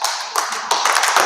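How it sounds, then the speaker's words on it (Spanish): Students give a short round of applause for a classmate at a school presentation, with several brisk bursts of clapping from a small group in a classroom. "un aplauso a su compañera"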